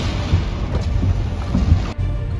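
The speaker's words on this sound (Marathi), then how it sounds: "आता पाऊस खूपच जास्त आहे" Heavy rain lashing down with strong gusting wind on a monsoon trek up Korigad Fort, a loud, dense, continuous roar of downpour and buffeting wind close to the listener.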